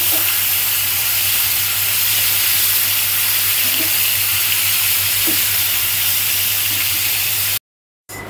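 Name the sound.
pangas fish frying in a pan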